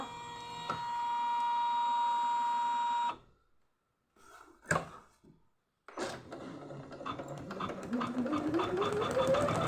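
Usha 550 sewing machine stitching a full hand embroidery design, a steady mechanical hum broken by a few handling clicks and a short pause, then starting up again with a rising whir.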